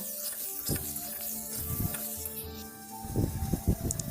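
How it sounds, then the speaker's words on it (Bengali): Potatoes fry in hot oil after a black cumin tempering, a steady sizzling hiss with crackles and occasional stirring clatter, close and moderately loud. "কালো জিরে ফোড়ন দিয়ে দিলাম আলু আলুটা আমি লাল লাল করে ভেজে নেব"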